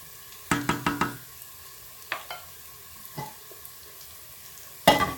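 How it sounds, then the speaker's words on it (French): Spinach and minced meat stirred in a pan for a Lebanese dish, a quick burst of scraping strokes followed by a few sparse knocks and a final louder scrape, no voices. "Je mélange."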